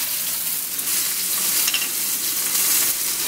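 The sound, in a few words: frying in hot grease in a cooking video game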